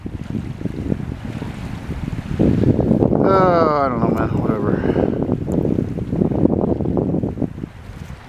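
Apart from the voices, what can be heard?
boat motor running on the water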